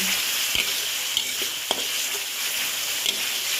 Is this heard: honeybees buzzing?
no